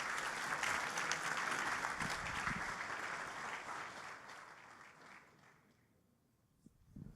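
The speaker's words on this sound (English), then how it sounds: "Come, let's take a picture with applause." Conference audience at a Zabbix Summit applauds during a group photo on stage, a steady, full burst of clapping that tapers off toward the end, with a few last claps.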